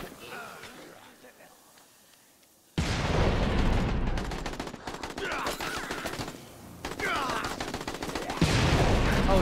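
Gunfire in Dead Rising 4 erupts after a quiet start, heavy bursts of rapid shots and booms that pause briefly and then resume louder, with a voice talking over the action.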